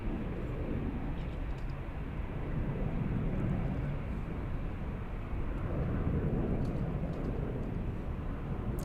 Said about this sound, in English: Let's go back to Emirates A380 taxiing.